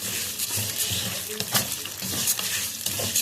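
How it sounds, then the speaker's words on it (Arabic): Vermicelli sizzles as it fries in ghee in a pot on the stove, with steady crackling and regular scraping strokes of a spoon stirring it, heard close up. "احمر بقى الشعريه وارجع لكم"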